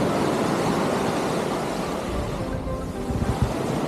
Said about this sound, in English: Just the sound of the waves, the sun rising slowly, and no crowds at all.